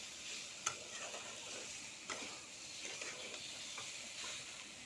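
Water poured into spice masala frying in a pan for a soybean and egg curry, giving a soft, steady sizzle with a few light clicks of stirring, quiet and close, without speech.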